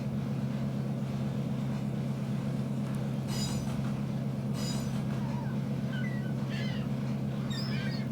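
A train rolls slowly through a railroad yard, giving a steady low droning rumble throughout with scattered high squeals and chirps from the wheels.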